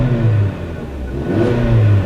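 A 2011 Hyundai Santa Fe four-cylinder engine revs up close by, its mid-pitched drone rising, dipping, then climbing again in a short burst with no voices over it.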